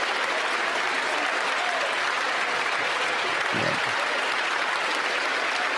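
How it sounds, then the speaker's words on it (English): Steady, dense clapping fills a parliamentary chamber from both sides after a federal budget vote passes. It holds at an even level throughout, with only a brief low thump partway through. "Both sides clapping."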